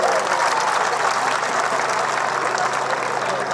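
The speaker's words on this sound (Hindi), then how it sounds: "जोरदार तालियों की गड़गड़ाहट से उनकी स्वागत कीजिएगा।" A large crowd at a public rally in Sitapur claps loudly and continuously to welcome Defence Minister Rajnath Singh, the sustained applause mixed with some crowd noise.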